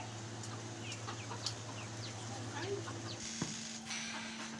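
White bantam chickens of laying age make soft, scattered clucks and short calls throughout, mid-distance over a steady low hum, with a couple of sharper peaks.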